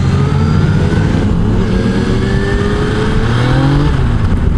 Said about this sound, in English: this bike here has got a lot of oomph to it when you accelerate